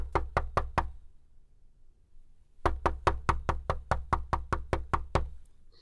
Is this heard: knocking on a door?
yes